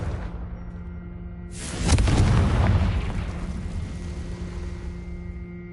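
A Confringo blasting spell detonates in Hogwarts Legacy: a sudden loud, booming explosion bursts out after a low ambient hum, then a rumbling roar slowly fades back into the background drone.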